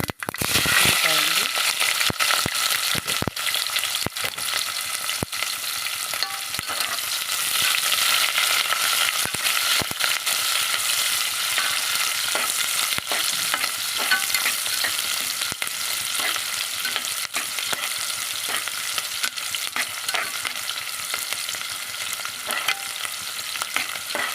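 Cumin, mustard seeds and green chillies fry in hot oil, a loud dense crackling sizzle with popping seeds and stirring scrapes running steadily throughout, close up.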